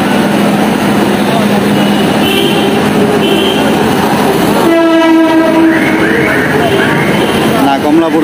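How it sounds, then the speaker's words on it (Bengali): A train horn sounds at the Khilgaon level crossing in Malibagh, Dhaka, blaring in long loud steady blasts over busy street traffic and rumbling rail noise, with voices talking nearby. "ট্রেন আসবে এখন খিলগাঁও রেলগেটে, এখন ট্রেন আসবে ঢাকার বাইরে থেকে, এই জন্য রাস্তা বন্ধ করে দিয়েছে।"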